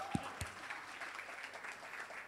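An audience claps during a Good Friday church service in Jakarta: a couple of sharp claps open into a soft, continuous patter of applause, fairly faint and distant.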